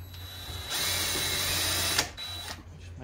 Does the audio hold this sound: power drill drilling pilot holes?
yes